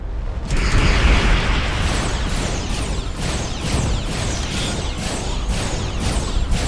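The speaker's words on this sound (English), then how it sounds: "Frigate says hell no as he launches a volley of phasing missiles." A volley of phasing missiles launched and exploding in the space game Starcom, a rapid train of about a dozen evenly spaced whooshing bursts over a rumbling low boom, loud and continuous.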